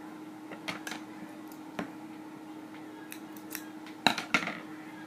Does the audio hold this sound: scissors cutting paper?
yes